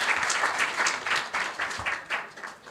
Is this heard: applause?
yes